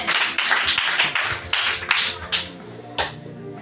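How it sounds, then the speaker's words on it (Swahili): A church congregation claps their hands in praise of Jesus, a run of irregular, close claps and taps that thins out toward the end. "Mpigie Yesu makofi."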